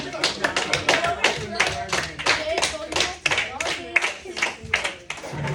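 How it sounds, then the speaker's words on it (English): A small audience claps in a rhythmic burst of sharp, distinct hand slaps, close and fairly loud, with some voices talking underneath. "Clap it up, man."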